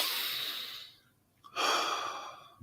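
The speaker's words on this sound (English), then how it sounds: "Breathing." A person breathes close to the microphone: a long airy exhale that fades out, a short pause, then a sharper inhale.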